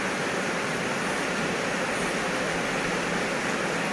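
Steady rain falling, a dense uniform hiss of broadband noise that fills the whole stretch without pauses, with no voices heard.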